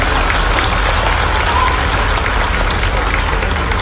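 A large crowd at a government event in India applauds after a performance on musical instruments, a loud, dense, unbroken roar of clapping that sounds almost like heavy rain and fills the whole stretch.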